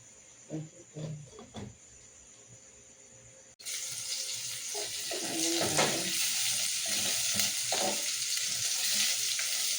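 A pot of pininyahang manok (pineapple chicken) bubbles and hisses loudly after a quieter start with a few soft clinks, the boiling sound rising and holding steady.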